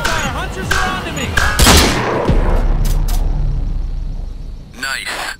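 Bursts of gunfire and explosions ring out in a Crysis 3 multiplayer match, close and loud and rolling into a rumble, while shouted voices talk over the firefight.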